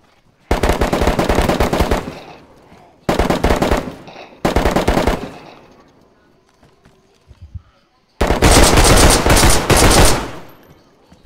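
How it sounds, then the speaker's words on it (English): Bursts of rapid automatic gunfire in the video game DayZ as zombies are shot, coming in several loud volleys of one to two seconds with short pauses between them and scattered quieter sounds in the gaps. "He's just shooting zombies."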